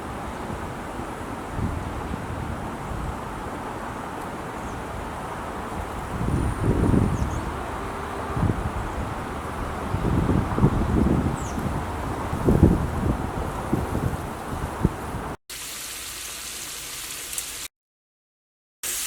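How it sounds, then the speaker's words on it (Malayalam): Strong wind blows outdoors in a steady, rough rush with occasional louder gusts buffeting the microphone, with no voices over it. "നല്ല കാറ്റ് വീശാന്നേ."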